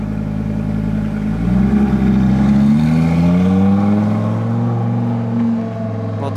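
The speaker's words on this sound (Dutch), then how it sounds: "Wat een geluid, hè, die V10." Audi R8 V10 fitted with an Akrapovic exhaust, revving loud and close, its pitch climbing and holding before easing back down, with no voices over it.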